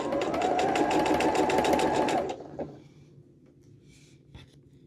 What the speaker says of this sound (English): And then we're just going to sew right along the bottom.